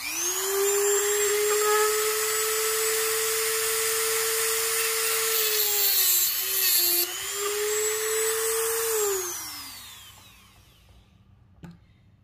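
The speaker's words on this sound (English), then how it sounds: "Let's go ahead and test out this cutoff wheel." A Dremel rotary tool with an EZ Lock EZ456 cutoff wheel runs at speed setting 10 while cutting through material, a loud, steady high whine that dips slightly under load, then winds down and fades near the end, with no talking.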